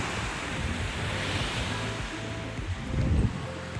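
Surf rolls and breaks steadily on the white-sand shore of Radhanagar beach on Havelock Island, a continuous close wash of waves with wind buffeting the microphone and a slightly louder surge near the end.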